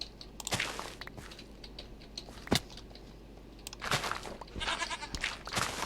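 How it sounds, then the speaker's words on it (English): A goat bleats several times in the Minecraft video game, with short sharp calls near the start, a loud one midway and a burst of bleats near the end, over a low game background. "Leave it alone, goat."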